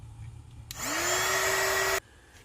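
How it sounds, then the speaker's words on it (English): A handheld heat tool drying a wet art journal page blasts on suddenly, its motor whine rising in pitch as it spins up, then runs as a loud steady rushing hum for over a second before cutting off abruptly. "I'm going to give it a quick dry because I'm going to keep working on this page and this is wet."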